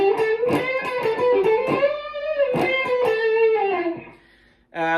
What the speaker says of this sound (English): So that's a sort of a dry, bluesy tone